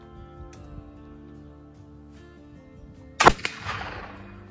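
A single loud, sharp report from a flintlock black powder gun loaded with powder mixed with iron oxide, following a quiet stretch and trailing into a short rumbling echo.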